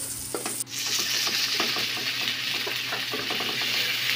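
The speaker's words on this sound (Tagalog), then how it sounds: "ngayon magigisa na tayo ng bawang, garlic, onion" Garlic and onion sauté in a hot pan for pork kasim mechado, a loud continuous sizzle broken by a sharp clank near the start and repeated scraping stirs of a utensil against the pan.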